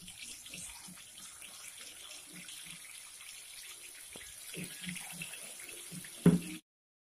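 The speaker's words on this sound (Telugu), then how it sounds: "నేను ఫ్రైడ్ ఆనియన్స్ వేయించుకున్న ఆయిల్లోనే చికెన్ని ఫ్రై చేసుకుంటున్నాను." Chicken pieces fry in oil left from frying onions for dum biryani, a continuous soft sizzle and bubbling hiss with faint crackles, ending in a short sharp clatter before cutting off.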